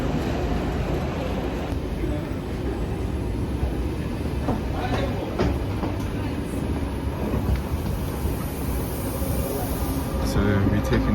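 Swiss SBB CFF train ride, a continuous rumbling carriage drone with faint rattles and clicks of the rails, steady and moderately loud throughout, with a voice talking over it.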